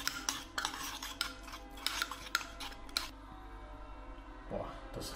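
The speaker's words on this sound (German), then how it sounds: "Das Ganze verrühren wir." Homemade sweet and sour sauce with pepper, chili, paprika, honey and lemon juice being stirred, a run of close scraping, clinking utensil strokes against a bowl that stops about two-thirds through, leaving quiet room tone.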